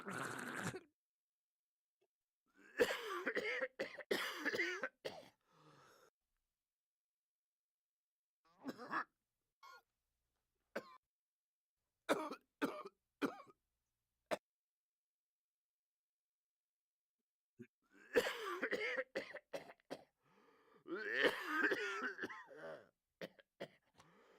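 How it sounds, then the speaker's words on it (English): Several separate bouts of coughing, each a cluster of harsh bursts with gaps of silence between them, fairly close, with a few isolated clicks and throat sounds in between. "Someone's coughing."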